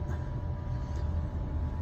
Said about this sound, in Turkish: Gördüğü gibi bir tramvayın içindeyim.